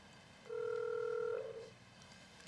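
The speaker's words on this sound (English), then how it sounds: "I'm getting Mr. Noggle on the phone" During a school board meeting, a telephone call is dialed. A clear, steady tone sounds for about a second, then shifts briefly into a warbling tone before fading to quiet room noise.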